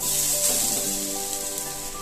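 Grated coconut dry-roasts in a pan for a modak kozhukattai sweet filling, giving a steady, even sizzling hiss that holds for the whole stretch with no one talking.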